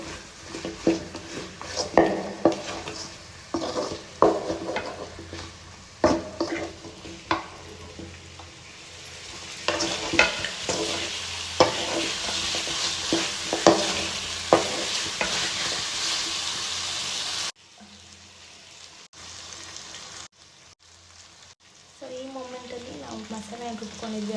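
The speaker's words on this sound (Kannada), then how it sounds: "ಸೊ ನೀಟಾಗಿ ಫ್ರೈ ಮಾಡ್ಕೊಬೇಕು" Chicken fries in a pan for a green chicken fry, with loud sizzling and repeated metal spoon scrapes and knocks against the pan, then a quieter stretch with lighter stirring.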